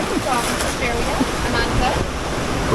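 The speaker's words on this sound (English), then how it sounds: "listening to the waves." Waves washing and rushing on the shore in a constant roar, with some wind buffeting and faint voices in the background.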